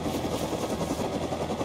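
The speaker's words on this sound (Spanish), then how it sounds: "¡Un helicóptero! ¿Puedo subirme? Dale, arranca, que nunca me subí en uno de estos." A helicopter in the video game Rust runs with a dense, steady rotor and engine drone, loud and continuous without pauses.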